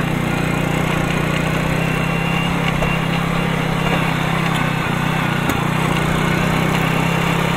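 A small moped engine idles quietly outdoors, a steady low droning hum running continuously without change, with a couple of faint clicks near the end.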